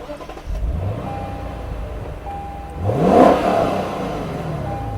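A 2017 Lexus RC F cranks and starts, its engine catching with a rising rev that settles into a steady idle, then a sharper throttle blip swells loudly and falls back to a smooth idle nearby.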